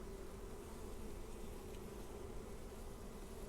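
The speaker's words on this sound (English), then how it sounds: "In go the bees that fell into the tote." Honeybees buzzing during a subarctic beehive check, a dense steady hum of many insects close by throughout, with no voices.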